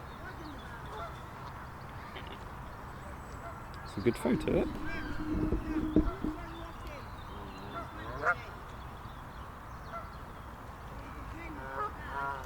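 Geese honk in a park where goslings are about, a few short calls rising near the middle while people chat close by over quiet outdoor background.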